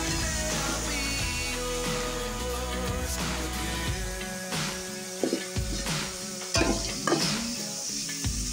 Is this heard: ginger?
yes